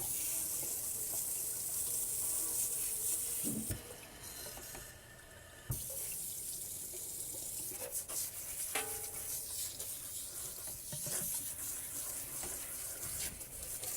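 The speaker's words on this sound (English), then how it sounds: "So I've got the water at a low, tepid temperature." Tap water runs into a sink or tub for bathing a Maltese dog, a steady hiss and splash that dips briefly as the flow is shifted, then resumes with light splashing and handling noises.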